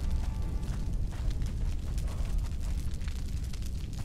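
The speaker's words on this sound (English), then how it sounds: "the torch itself actually has like a fire lit noise to it" A handheld torch burns in the Conan Exiles video game, giving a steady, loud, low roaring crackle of fire that continues without a break.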